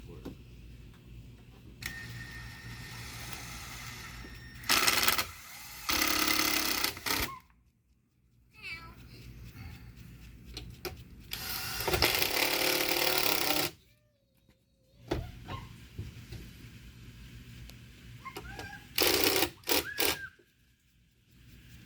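A skin panel is being screwed back onto a boat's rotten transom, giving three short, loud bursts of fastening separated by quieter stretches of handling and shuffling.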